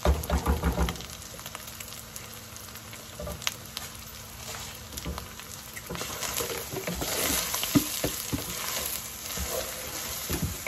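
Minced lamb masala frying and being stirred in a pan, a steady close sizzle with patter and scraping stir sounds running throughout, no voices.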